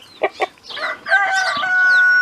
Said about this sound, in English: So we had an extra red rooster right here.